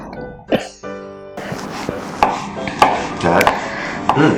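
A knife chops sharply against a board several times in quick, uneven strikes while making herring under a fur coat salad, close by, with some scraping and a bit of voice between.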